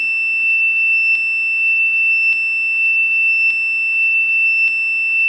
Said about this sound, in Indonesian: maka pintu akan terbuka dan buzzer akan menyalakan bunyinya